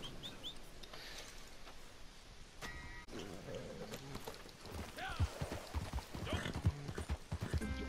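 Horse hooves clip-clop in a Red Dead Redemption 2 game scene, a steady rhythmic patter under other game sounds and occasional voices, growing louder and busier toward the end.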